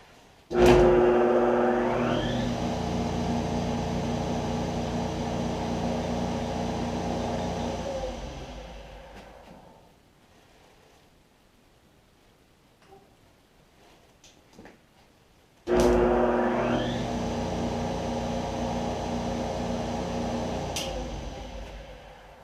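Wood planer fitted with a new Shelix carbide cutter head, started twice from standstill: each start brings a sudden loud whirring hum that holds steady, then winds down slowly into near silence.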